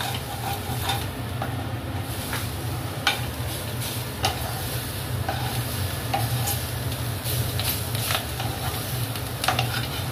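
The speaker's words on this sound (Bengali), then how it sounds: "এবার কপির পাতাটাকে ভালো করে ভাজা ভাজা করা হচ্ছে।" Cauliflower leaves are fried in a pan at home, giving a continuous crackling sizzle with stirring scrapes and occasional sharper clicks, steady and unbroken by speech.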